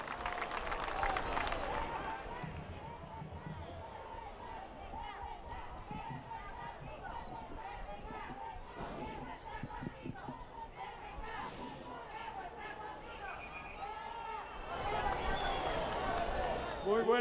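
Crowd applauding the arrival of the president at a solemn ceremony for the anniversary of Moquegua's founding, steady dense clapping mixed with crowd chatter and whistles, swelling louder near the end.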